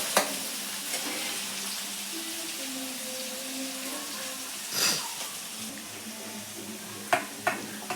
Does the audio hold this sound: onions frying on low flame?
yes